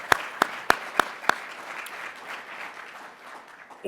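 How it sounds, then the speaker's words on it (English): Applause from an audience at a Department of Communication centennial appreciation day: five sharp, separate claps ring out first, then a softer, spread-out patter of clapping carries on steadily to the end. "Round of applause."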